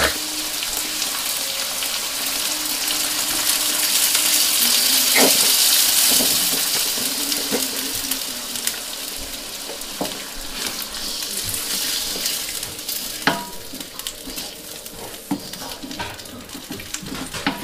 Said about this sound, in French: la viande elle est dorée, donc je vais rajouter la sauce tomate